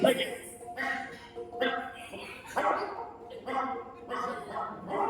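A voice imitates a puppy with a run of yips and whimpers, close and fairly loud, repeated in short bursts.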